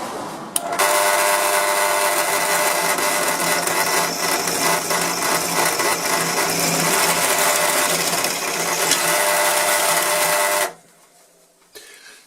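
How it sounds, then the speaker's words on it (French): A drill runs continuously with an HSS bit through metal lubricated with cutting oil, giving a loud, steady whining grind for about ten seconds before cutting off abruptly into quiet room tone. "Et je continue le perçage."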